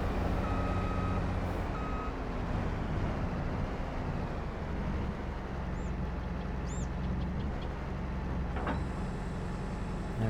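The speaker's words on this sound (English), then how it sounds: "And here it is, class 108 SL Maxi. Let's fire it up." Class 108 SL Maxi combine harvester in Farming Simulator 22 starting up, a steady low engine rumble settling into a continuous drone, with a faint repeating electronic beep and occasional light tones over it.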